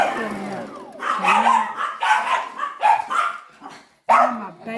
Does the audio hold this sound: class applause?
no